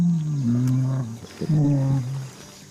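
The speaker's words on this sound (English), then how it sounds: "gorillas have also been recorded singing while they eat" Gorillas hum in low, drawn-out tonal calls while eating, two long wavering moans in a row, loud and close with a brief pause between them.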